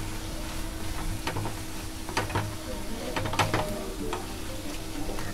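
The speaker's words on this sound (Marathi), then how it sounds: "आणि चांगली ही अशी परतून घेते." Button mushroom masala with ground spice paste and garam masala is sautéed in a pan. A soft sizzle runs under sporadic spoon scrapes and taps against the pan, quiet and close.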